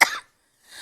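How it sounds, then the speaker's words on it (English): A single close, sharp cough with throat clearing bursts out at the start, then the sound drops to near silence before a soft hiss of room noise returns. "Let me clear my throat."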